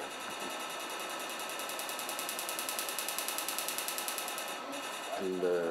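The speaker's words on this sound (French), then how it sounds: "les claquements qui sont perçus par le patient sont des claquements de plasma, d'ondes énergétiques qui vaporisent petit à petit le tissu cornéen" A latest-generation excimer laser fires during corneal eye surgery, a fast, even train of sharp plasma clicks as it vaporises corneal tissue. The steady clicking runs for several seconds, then stops abruptly, followed by a brief different sound.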